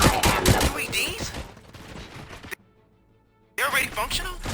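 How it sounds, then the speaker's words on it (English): Gunfire in RoboCop: Rogue City crackles in loud rapid bursts over game noise and speech for the first half, cuts to near silence, then returns. "Gunshots? What's going on?"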